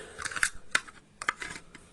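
Several sharp snipping clicks of scissors cutting plastic toy packaging, close and fairly quiet, in uneven bursts with brief pauses between.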